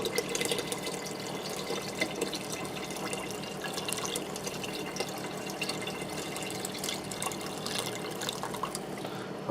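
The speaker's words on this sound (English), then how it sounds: "cut a little hole on top of your box to make sure your stock pour out nice and smooth for you" Stock pours from a carton through a small hole cut in its top into a pressure cooker, making a steady, close liquid gurgle and splash that runs unbroken throughout.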